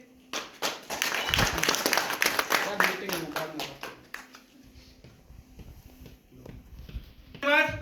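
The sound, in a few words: audience applause for a speaker at a seminar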